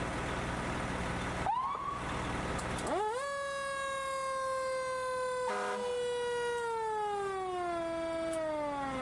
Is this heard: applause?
no